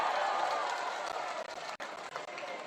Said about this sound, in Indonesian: Boleh tepuk tangan untuk Bung Ismail Bahtiar.